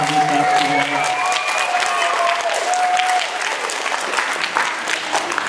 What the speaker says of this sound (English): everybody let's give a round of applause to Mr. McGuire